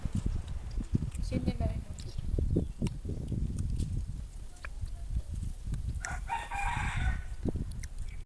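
A rooster crows in a village yard, a drawn-out call rising over nearby chickens and people chatting close by.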